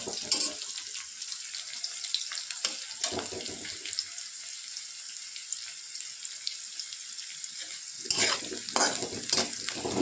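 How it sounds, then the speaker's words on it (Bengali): Onions fry in hot oil in a wok with a continuous hiss and crackle, stirring scrapes near the start and end, heard close without talk. "পেঁয়াজটা একটু লাল লাল করে ভেজে নেব।"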